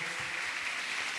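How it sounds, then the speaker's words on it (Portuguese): Church congregation applauding during a Portuguese-language worship service, a steady wash of clapping heard throughout at moderate loudness with no talk over it. "Dê um aplauso ao Senhor"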